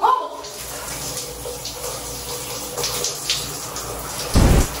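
Shower water running in a bathroom, a steady hissing spray that continues throughout, with a louder splashing burst near the end.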